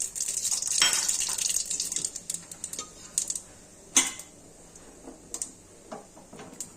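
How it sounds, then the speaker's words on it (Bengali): Dried chili and bay leaves dropped into hot oil in a home kitchen, a burst of sizzling and crackling that flares up at first, then settles into scattered pops and light clinks. "একটা শুকনো লঙ্কা, কয়েকটা তেজপাতা, রাঁধুনিগুলো তেলের মধ্যে ছেড়ে দিচ্ছি"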